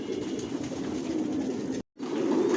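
Racer pigeons of a Johnson line in a Bangladeshi loft make a dense, loud bed of overlapping coos that cuts out abruptly for a moment before resuming.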